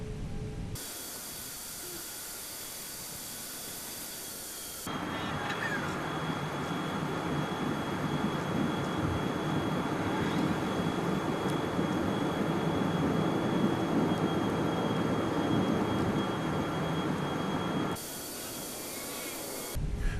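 A Jetstar A320 airliner taxis in Microsoft Flight Simulator, its engines making a steady, sped-up roaring hiss that swells louder partway through and then drops back.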